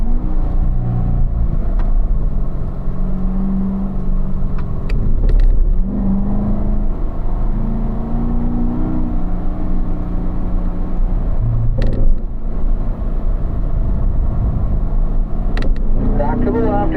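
A Corvette on a racetrack hums and rumbles steadily from inside the car, engine pitch shifting gently as it accelerates, while an instructor talks over it throughout.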